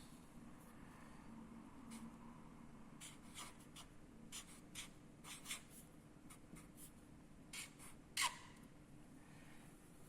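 Pen writing measurements on a sheet of paper during an Ohm's law physics experiment, a quiet run of short scratchy strokes spread across the clip with one sharper tap near the end, no talk.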